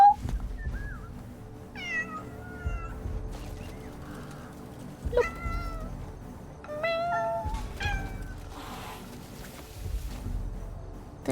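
A cat in the video game Crimson Desert gives a string of short meows, about six or seven scattered across the stretch, each clear and moderately loud over a soft low background.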